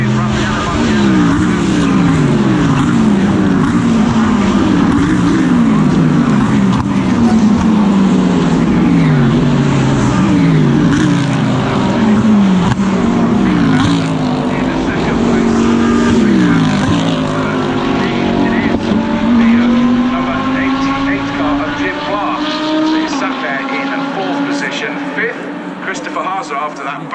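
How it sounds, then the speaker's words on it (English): GT race cars of the Fanatec GT World Challenge at Brands Hatch roar past, engine notes rising and falling through gear changes, heard under continuous race commentary. "we wait to see the cars come flashing back into the line"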